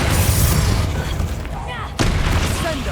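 A Bombarda explosion spell from Hogwarts Legacy goes off as a loud, close, booming blast, followed by a second sharp burst about two seconds later, amid battle noise.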